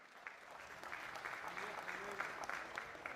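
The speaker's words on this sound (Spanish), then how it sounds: "un aplauso para Fidel Vázquez" Applause fills Venezuela's National Assembly chamber, a continuous wash of many hands clapping at moderate distance, quiet overall, with voices faintly mixed in beneath it.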